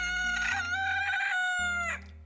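A rooster crows once in a chicken farming video game, a loud, close, drawn-out cock-a-doodle-doo over a steady game music backing.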